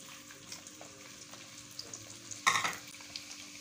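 Chopped garlic cloves fry in hot oil in a pan for a mixed vegetable pickle, a soft low sizzle with faint clinks, then a brief louder burst of sizzling as something is stirred, quiet overall.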